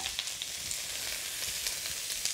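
Garlic and onions sizzle in hot oil in a wok, a steady close frying hiss with small crackling pops throughout and no talk.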